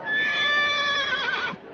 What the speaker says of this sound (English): Listen, he's giving you the horse laugh now.